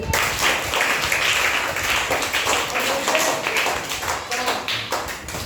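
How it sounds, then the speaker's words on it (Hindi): A class of students claps together in a coaching session, a steady rattle of many hands at moderate loudness, continuous with no talk over it. "तो ताली बजाइए।"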